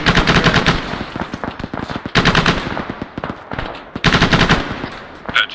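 Video game gunfire in loud, close bursts of rapid automatic shots, three long strings separated by brief lulls with scattered single shots, heard alone without talk.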